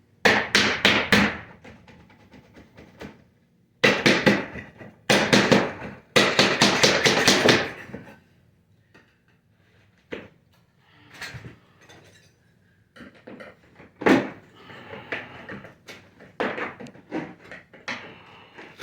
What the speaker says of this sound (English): Pretty much just pry it off.